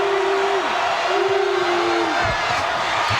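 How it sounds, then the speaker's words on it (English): Basketball arena crowd roars in a frenzy during a tight 1997 Kansas vs. Kansas State college game, a sustained loud wash of cheering and yelling with a whistle-like tone and a court thud. "And this crowd is absolutely at a frenzy."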